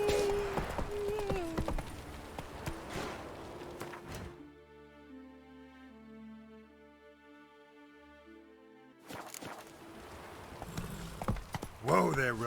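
Horse hooves clip-clop in The Witcher 3, a steady rhythmic trot in the first few seconds and again near the end, with a quiet music-like stretch between and voices talking over it.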